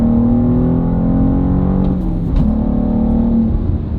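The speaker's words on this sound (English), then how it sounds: "it wants to be rolled through the gears" A BMW M2 G87 engine drones loudly and steadily from inside the car under hard acceleration, with a brief change in pitch partway through, as if from a gear shift.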